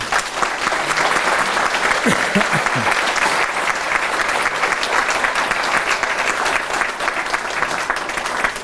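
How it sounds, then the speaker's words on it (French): Loud, sustained applause from a large crowd at a mayor's 2023 New Year speech, steady and dense throughout with a few faint voices mixed in. "j'aimerais qu'on les applaudisse très fort"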